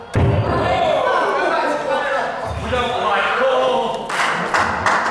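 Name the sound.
wrestling crowd jeering wrestler Shauna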